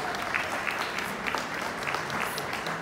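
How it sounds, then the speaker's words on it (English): An audience at an economic empowerment and equality event gives a sustained round of applause, a thick, even roar of many clapping hands heard from some distance, with faint voices mixed in. "let's have a huge round of applause for Women That Give"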